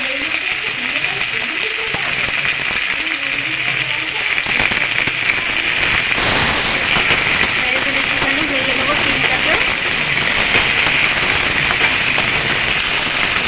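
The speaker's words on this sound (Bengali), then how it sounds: "চিংড়িটা ভাজতে ভাজতে এবার সিমটাও দিয়ে দেবো কাটা" Shrimp and cut flat beans frying in a pan for a mola fish chorchori with potato, cauliflower and eggplant: a loud, continuous close-up sizzle and hiss throughout, with faint voices beneath.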